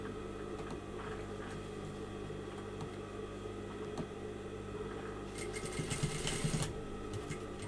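Sewing machine stitching fabric along a seam, a steady fast mechanical whir with a brief louder, quicker burst near the end, close by with no talk.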